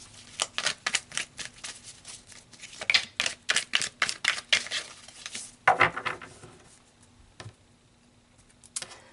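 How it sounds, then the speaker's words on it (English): Tarot cards being shuffled and drawn, giving bursts of crisp riffling and slapping card noises in uneven clusters, close and fairly loud, with short pauses between and no talking. "let's pull some tarot cards"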